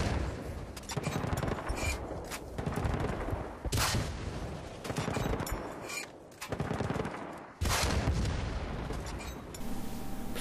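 Carl G rocket launcher shots in Battlefield Bad Company 2 come as loud, sharp blasts, each followed by a decaying roar, several of them spaced a couple of seconds apart with no speech.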